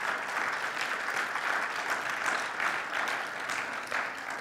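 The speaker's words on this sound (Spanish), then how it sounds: "Dale el aplauso al Señor." A church congregation applauding together in steady, loud, dense clapping that holds evenly from start to finish, with no voices rising above it.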